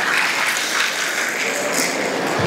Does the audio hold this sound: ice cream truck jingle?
no